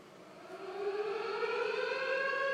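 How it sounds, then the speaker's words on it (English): Civil defense sirens wail alone, a steady rising tone with layered harmonics that swells slightly louder over a few seconds, with no voices. "Do you hear the sirens, guys?"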